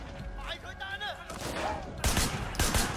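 Bursts of gunfire in the video game Sleeping Dogs, several heavy shots thudding in the second half over music and game sounds, with a voice talking over the start.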